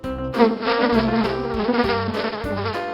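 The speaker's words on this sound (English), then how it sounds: "fly," A housefly buzzes close and loud in a steady, slightly wavering drone that lasts just under three seconds.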